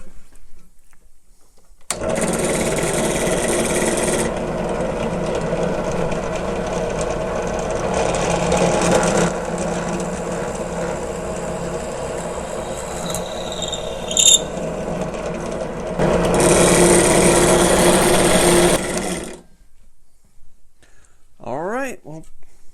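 A Harbor Freight drill press whirs steadily for nearly twenty seconds as it bores holes into material, its pitch and loudness shifting, then it winds down with a falling whine.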